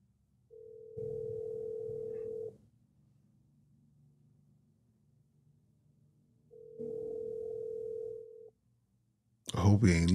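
A telephone dial tone sounds twice in steady, even bursts while a call is being placed, separated by a quiet gap, followed by a voice at the end.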